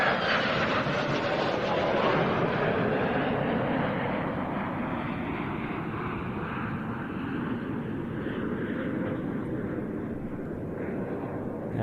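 A Czech Air Force NATO fighter jet at the RIAT airshow, a loud continuous roar of jet engine noise that holds steady and slowly fades slightly as it passes at a distance.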